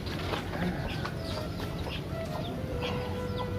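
Chickens clucking close by under a steady, noisy outdoor background, with short bursts of fowl calls scattered through the whole stretch.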